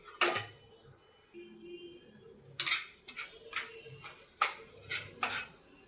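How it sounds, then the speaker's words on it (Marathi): Gram flour and semolina roasting in ghee in a pan, with a spoon scraping and clinking against the metal in sparse, irregular strokes over a quiet background. "तूप व्यवस्थित गरम झाल्यावर यात घेतलेलं बेसन व रवा व्यवस्थित गुलाबी रंगावर भाजून घेऊ।"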